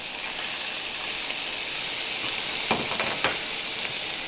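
Bean sprouts frying in a wok over low heat for a stir-fried liver dish, giving a steady close hiss and sizzle, with a couple of brief louder scrapes near the end.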